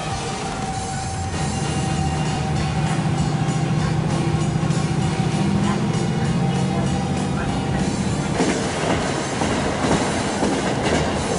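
A local train in Hokkaido, Japan, between Setose and Engaru, rolls steadily along the rails with rhythmic clickety-clack and a droning rumble, loud and close, no talking.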